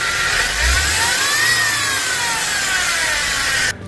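An Audi engine idles with a timing chain fault, a steady mechanical whir and rattle with a faint rising whine, close and continuous before cutting off near the end.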